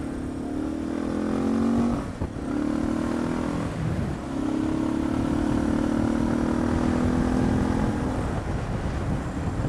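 Suzuki DR650SE motorcycle fitted with an FCR-MX carburetor cruising on a freeway, a steady engine drone with wind rush, dipping briefly twice as the rider eases off between gear changes, close and loud throughout.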